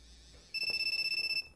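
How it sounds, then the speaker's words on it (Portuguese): A telephone rings in the Wii horror game Calling, a bright electronic trill of rapid even pulses lasting under a second, loud and clear against a quiet background. "O telefone tá vibrando."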